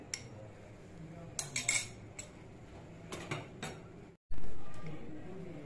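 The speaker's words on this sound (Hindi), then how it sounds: "बीफ और स्पाइसेस को हमने अच्छी तरह से चॉपर में चॉप कर लिया" An electric food chopper works on beef with spices, ginger-garlic paste and onion: scattered clicks and rattles of the lid and blades, then a sudden loud motor whir that starts near the end and fades slightly.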